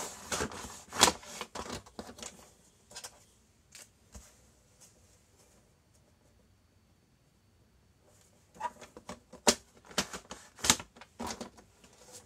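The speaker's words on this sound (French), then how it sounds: "Je vais peut-être les couper avec le massicot, ça sera fait plus proprement." Envelopes are trimmed on a paper guillotine trimmer, giving clusters of crisp, dry clicks and sliding snaps close by, separated by a quiet pause in the middle, with no talking.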